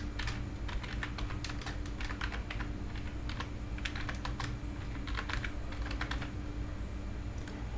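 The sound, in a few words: typing a filter name on a computer keyboard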